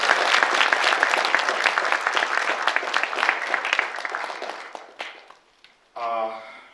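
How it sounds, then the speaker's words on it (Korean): Applause fills a Korean journalism award ceremony hall, a dense sustained clatter of many hands that fades over about five seconds before a voice begins speaking. "그런 의미에서 제가 박수 한번 제안드리겠습니다."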